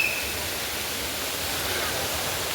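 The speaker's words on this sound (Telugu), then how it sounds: "చూసా ఎలా పడ్డది జలపాతం, అదిరిపోయింది" Steady rushing roar of the Katiki waterfall near Araku, a broad continuous wash of falling water that stays even and fairly close throughout, with no other sounds standing out.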